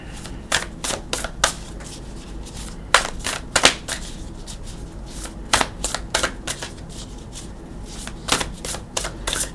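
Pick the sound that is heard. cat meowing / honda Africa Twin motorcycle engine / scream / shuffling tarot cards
shuffling tarot cards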